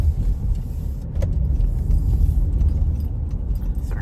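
Car traffic passing on a road, a steady low rumble with a swelling pass-by in the middle, moderately loud with no talk.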